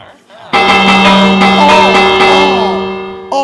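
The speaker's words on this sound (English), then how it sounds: "That bell, mad loud." Village bell rung in Minecraft, a loud, clanging metallic ring that starts suddenly and sustains with a long ringing tail, with a voice speaking over it and another strike near the end.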